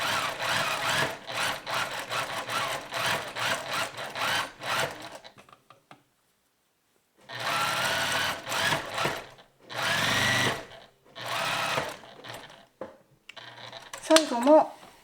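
A sewing machine runs in several bursts while sewing a 7 mm seam with a long stitch on a high-neck coat, rattling steadily with short pauses between runs and a brief sharp sound at the end.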